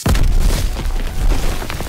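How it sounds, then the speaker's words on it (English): A grenade blast in the World War II shooter Call of Duty: WWII, a loud, close, deep boom at the start followed by a rumbling, crackling tail that stays heavy through the rest. "Fire in the hole!"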